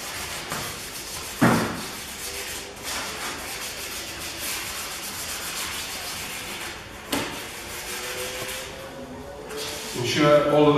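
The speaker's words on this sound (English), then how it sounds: "Once you finish sanding down the whole surface" Scuff pad rubbed steadily across a product's surface as prep for hydro dipping, giving a continuous close scratchy hiss with a few sharper knocks of handling along the way.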